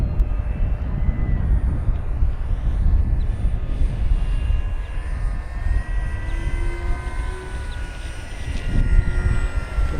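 An FMS Corsair 1700mm RC model airplane, flown with flaps and ordnance, drones steadily overhead with a continuous engine hum and shifting whine, moderately loud and outdoors.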